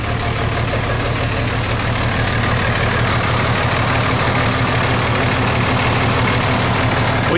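The Cummins-swapped Ford F350 diesel idles with a loud, steady, low rumbling drone, close and unbroken throughout.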